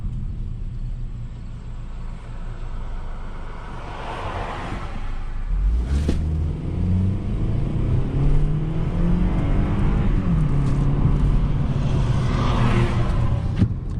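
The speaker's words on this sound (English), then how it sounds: "go ahead and give you an acceleration right here" A 2021 Hyundai Tucson in sport mode accelerates from inside the cabin, its engine rumble building steadily and shifting through the six-speed automatic, with moderate, continuous road noise throughout.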